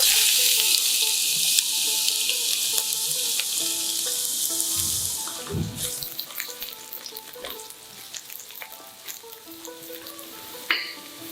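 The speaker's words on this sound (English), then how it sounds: "Saute garlic." Steady loud sizzling of garlic sautéing in a hot pan, easing slightly partway through with a few clinks.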